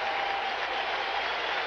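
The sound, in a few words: baseball crowd applauding a home run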